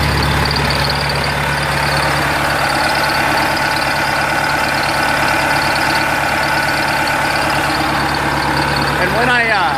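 A Cummins diesel truck engine idles with no exhaust fitted, a loud, steady, close mechanical clatter and hum with a rattly edge and a voice speaking over it near the end.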